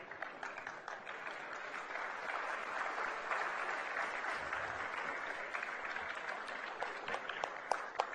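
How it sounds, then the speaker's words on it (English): Audience applause fills the hall at a literary festival award ceremony, a steady sustained clapping from a large crowd that carries on for the whole stretch at an even level. "The applause should keep coming."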